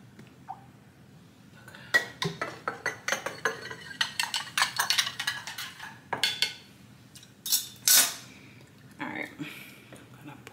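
A homemade soap and water mixture being stirred in a container, giving irregular clinking and scraping strokes that come and go, fairly close, with no speech.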